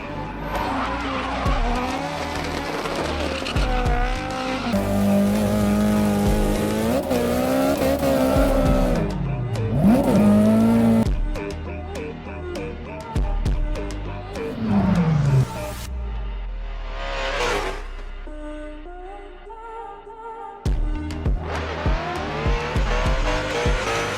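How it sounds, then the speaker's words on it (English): A drifting car slides with long tire squeals over a loud, revving engine, rising and falling pitch sweeps across the run, with short breaks and bursts of acceleration throughout. "we're going to be talking about drifting in a straight line"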